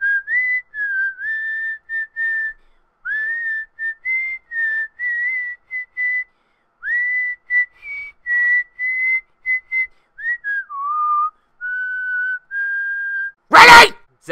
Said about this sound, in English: But that doesn't give you the right to whistle that damn song!